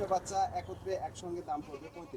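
Goats bleat several times in short wavering cries, close by at a goat farm, mixed with background chatter and low rumble.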